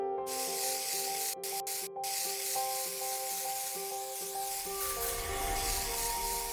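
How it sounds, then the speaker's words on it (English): Spray gun coating a cast iron electric motor housing over white primer in a factory paint shop, a steady close hiss running throughout, with a few tonal machine hums layered beneath. "Here, after treating the motor with white primer, painters give it a specific color"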